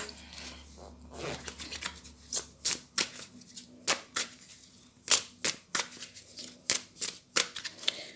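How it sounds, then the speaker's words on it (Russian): Tarot cards are laid out on a table for a six-card reading, one after another in a series of close, crisp slaps and slides at an uneven rhythm, with faint handling between them. "Пока выкладываю карты"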